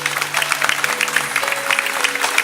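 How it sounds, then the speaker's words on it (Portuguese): A church congregation breaks into a round of applause, brisk clapping from many hands over faint sustained musical tones in the background. "podemos dar uma salva de palmas para Jesus?"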